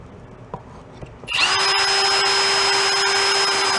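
A few faint taps, then a power drill spins up abruptly and runs at a steady high whine until the end, opening holes for trim on a Honda Trail 70 motorcycle.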